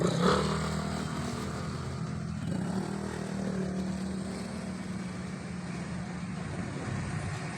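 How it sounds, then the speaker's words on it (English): Dense traffic jam of cars and motorcycles on a Philippine road, a steady broadband engine rumble and idling drone with low hum, no single vehicle standing out. "Wow, traffic's really backed up."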